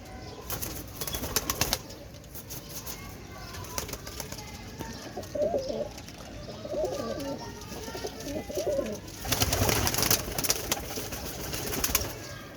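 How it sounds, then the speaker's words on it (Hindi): Blue pigeons in a home loft coo in soft, repeated rolling calls, with occasional wing flaps and clattering movement nearby, fairly close and moderately loud. "घर के नीले परिंदे ने जी"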